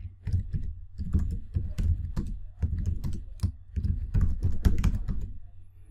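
Quick, uneven keystrokes clatter on a computer keyboard in bursts, close and clear, with short pauses between words being typed.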